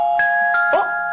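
A cartoon doorbell chime from Caillou rings as three bright, pure tones in quick succession, clear and loud with no voices over it.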